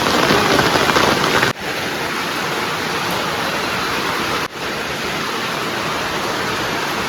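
Steady heavy rain pouring down on Deepavali night, a dense continuous hiss close by with two brief dropouts, no voices.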